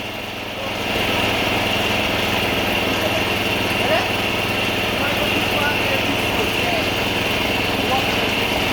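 A small engine driving a cassava processing machine runs steadily at moderate throttle, a loud, constant buzzing drone that rises to a plateau after a second and holds.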